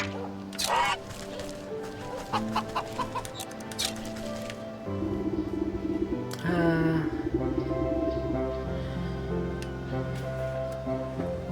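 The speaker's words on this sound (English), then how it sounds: "Chicken, goose, perhaps the nastiest of birds." Goose honking in the video game Wytchwood, a few loud nasal honks near the start and again midway, over a steady game music bed with no talking.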